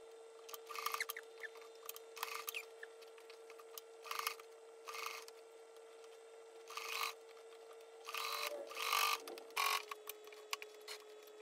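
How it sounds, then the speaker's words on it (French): Sewing machine topstitching a zipper on a bag, heard as repeated short bursts of rapid stitching separated by pauses, fairly quiet and close, with a faint steady hum underneath and no talking. "Vous actionnez votre couture, vous faites un point d'arrêt et vous surpiquez la fermeture à 1 mm voire"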